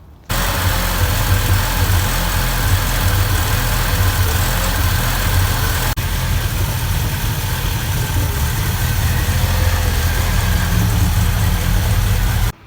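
A Ford Merkur XR4Ti engine, recently retimed after a head gasket job, runs at a steady idle, loud and close with a constant vibrating drone that cuts off abruptly at the end.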